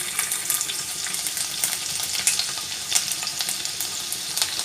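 Ginger hits hot oil in a wok, and a loud, dense crackling sizzle runs steadily throughout with no voices.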